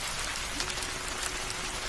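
Rain pours on a dark night road in a Bangla cartoon ghost story, a steady even patter and hiss with no talking.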